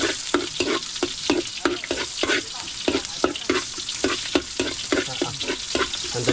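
Sliced onions sizzling in a hot pan for pancit, cooked outdoors over a wood fire on a farm, with a loud steady frying hiss broken by regular scraping strokes of a stirring utensil.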